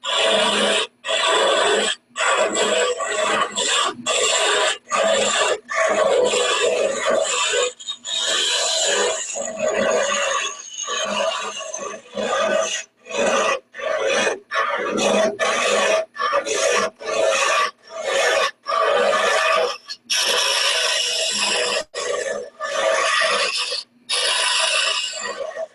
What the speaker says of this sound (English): I'm using a 100 cutter for hollowing.